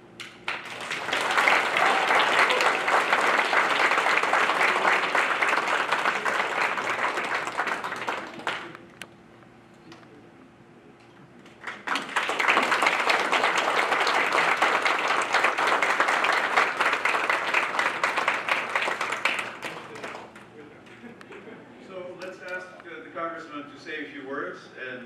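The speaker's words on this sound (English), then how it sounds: "A rousing applause for Congressman Steve Chabot" Rousing applause for Congressman Steve Chabot at a 40th anniversary celebration banquet: loud sustained clapping from a large room, a brief lull near the middle, then a second long burst that fades into murmuring.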